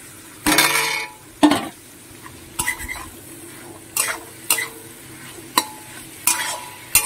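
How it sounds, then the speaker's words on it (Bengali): Sausage and bread pieces fry in melted butter in a pan, a soft sizzle under repeated sharp scrapes and clinks of a utensil stirring against the pan, close and irregular. "এবার আমি এই যে সসেস আর পাউরুটির টুকরোগুলো দিয়ে দেবো।"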